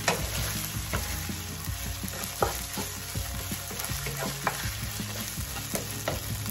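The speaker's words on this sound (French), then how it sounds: "Je suis en train de cuire notre crevette." Shrimp frying in a pan for curry fried rice, a steady close sizzle with scattered crackles and stirring scrapes running throughout, with no talk.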